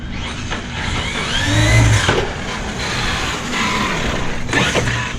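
A Traxxas X-Maxx 8s RC car with a rebuilt ESC, motor and servo pops up onto two wheels. Its electric drivetrain whines and buzzes loudly and steadily, with a surge in the middle.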